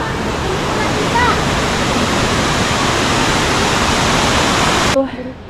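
A waterfall at Ng Tung Chai roars as a steady, loud broadband rush of falling water that fills the scene without a break, then cuts off abruptly near the end.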